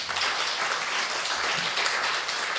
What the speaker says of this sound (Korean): 큰 박수로 한번 격려해 주시기 바랍니다